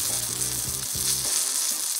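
Blanched Brussels sprouts sizzle and crackle in hot oil in a pan, a loud bright frying hiss with a few stirring scrapes over two seconds.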